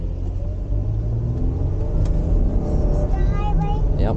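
Four-lane highway traffic on a busy foggy Wisconsin day rumbles steadily past from inside a moving car, with a low road drone and vehicles going by. Voices talk faintly over the noise.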